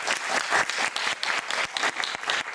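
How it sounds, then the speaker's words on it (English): Audience applause for a speaker at a tech talk, a crowd clapping loudly with distinct individual claps audible in the mix, sustained for a couple of seconds. "huge round of applause for Adam."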